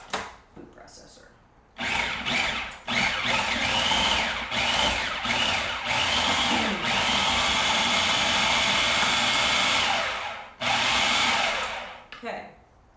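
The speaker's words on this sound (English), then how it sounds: "I am using food processor." A food processor whirs loudly and continuously as it mixes apple pie dough, starting after a brief pause, running steadily for several seconds, then cutting off near the end.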